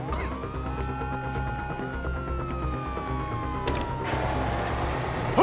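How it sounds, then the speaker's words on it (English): Wailing police sirens in Grand Theft Auto V rise and fall at a moderate distance over a low engine hum, with a sharp clatter near the end. "you hear that? Sirens!"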